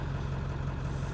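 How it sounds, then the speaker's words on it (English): A car engine fitted with a cold air intake idles steadily after several minutes of running, giving a constant low rumble close by with no voices. "So I'm going to let it idle a little bit"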